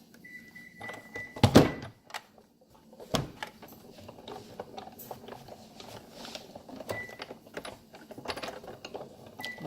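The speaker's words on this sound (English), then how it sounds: "So now, run this through the Big Shot." Card being run through a Big Shot die-cutting machine, a mix of clunks and a loud thump near the start, then a stretch of irregular clicking and ratcheting as the handle is cranked, close and fairly quiet.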